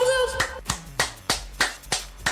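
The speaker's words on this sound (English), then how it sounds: "It was a lot of booty clapping going on." Booty clapping sound effect: six sharp, evenly spaced slapping claps in about two seconds, close and crisp, with a short voice at the start.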